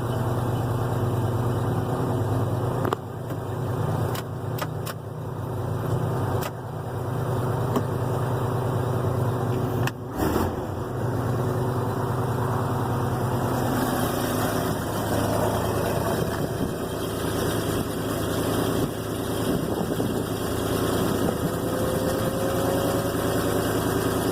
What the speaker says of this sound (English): About 82, 83 at a high idle.